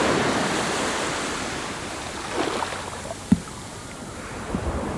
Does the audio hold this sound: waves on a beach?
yes